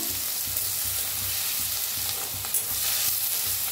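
Onion and finely chopped tomatoes fry in a pan for an onion-dal dish, giving a steady close hiss and sizzle with soft rhythmic stirring scrapes throughout.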